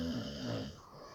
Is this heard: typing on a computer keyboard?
no